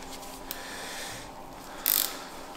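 A ratchet works a stuck glow plug on a V10 bi-turbo engine, giving a faint, quiet clicking with a brief sharper burst of ratcheting near the end.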